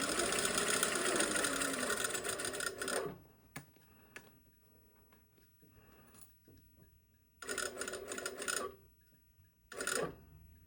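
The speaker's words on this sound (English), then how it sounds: "sew right along that line as well as I possibly can" A sewing machine stitches a straight line along a single welt pocket, its steady mechanical running loud for about three seconds, then quieter handling noises and two short bursts of stitching later on.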